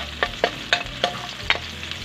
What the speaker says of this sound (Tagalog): Igisa na natin. Sabay na natin yung bawang.